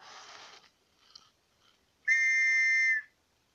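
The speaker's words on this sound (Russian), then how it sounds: "Используем волшебный свисток." A magic whistle in the Pathos fantasy video game gives one sustained, clear tonal blast of about a second, loud and alone, after some faint rustling game sounds.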